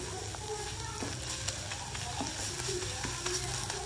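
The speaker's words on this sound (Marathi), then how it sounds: "हे सगळे मसाले चांगले तेलात परतून घ्यायला" Pav bhaji spices frying in hot oil in a pan, a steady close sizzle with crackling pops and occasional stirring scrapes throughout.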